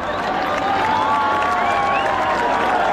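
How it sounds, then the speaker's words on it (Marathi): At a dahi handi event in Roha, a crowd applauds a Govinda team forming a human pyramid. A loud, continuous roar of clapping and cheering rises, with whistles cutting through on top. "चला अन्वयकरांना टाळ्या वाजून जर आपण याला प्रोत्साहित करूया."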